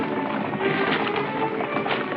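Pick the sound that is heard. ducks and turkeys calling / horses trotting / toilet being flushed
horses trotting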